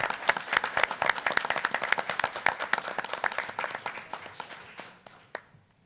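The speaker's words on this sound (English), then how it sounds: "If we can give them all a round of applause." Board of education meeting audience claps for honored staff, a modest crowd with distinct individual claps, fairly close, tapering off to a few last claps before quiet.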